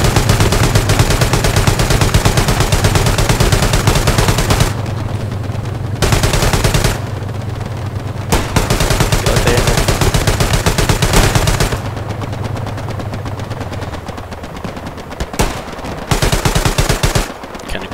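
Heavy sustained gunfire in the WWII shooter Hell Let Loose, loud, rapid machine-gun bursts with short pauses between them, set against a steady low engine rumble.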